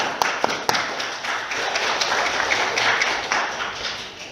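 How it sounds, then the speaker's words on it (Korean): Sustained applause from a church congregation, steady dense clapping filling the whole stretch with a few sharper claps standing out. "박수 한번 주세요"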